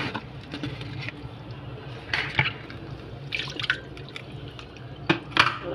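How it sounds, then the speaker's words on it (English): Excess water drains from a watered flower pot and trickles and drips steadily into a sink, with scattered splashes and small plops over a constant running hiss. "The excess water is coming out."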